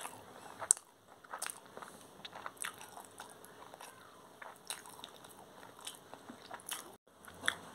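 Someone eats mutton keema curry with tandoori roti close to the mic, with repeated soft bites, chewing and small crunchy, squishy mouth sounds in an irregular rhythm, and no talking.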